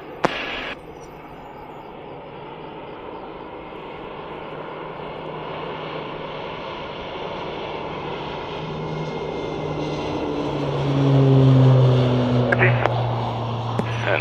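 Firefighting air tanker on a drop run during an aerial firefighting training exercise, its engine drone building steadily and peaking loud as it passes, with radio voices talking over it.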